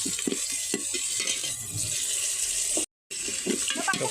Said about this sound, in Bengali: সবটা নাড়িয়ে নিচ্ছি আমরা এখন